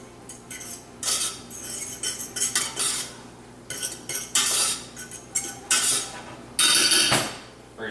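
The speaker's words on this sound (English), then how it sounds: "We're going to add our Parmesan cheese. I'm going to go ahead and mix that in." A utensil stirs Parmesan cheese into braised carrot couscous in a bowl, giving irregular metallic scrapes and clinks in bursts, close and fairly loud, with no talking.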